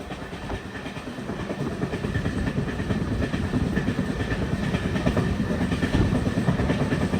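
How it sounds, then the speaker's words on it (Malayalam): A passenger train on a Bengaluru to Delhi journey runs through a station, heard from inside as a continuous loud rumble with rhythmic clickety-clack of the wheels and no voices. "ഏതോ ഒരു സ്റ്റേഷനിലൂടെയാണ് ട്രെയിൻ കടന്നു പോയിക്കൊണ്ടിരിക്കുന്നത്"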